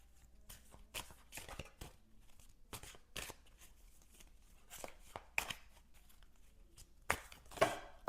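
Oracle cards being shuffled by hand at close range: quiet, irregular bursts of riffling and flicking, separated by short pauses.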